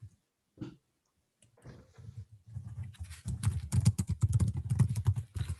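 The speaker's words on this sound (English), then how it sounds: "Somebody's typing the question." Keys clatter on a computer keyboard during an online physics seminar, starting with a few sparse taps and building into a quick, steady stream of close, moderately loud keystrokes in a quiet room.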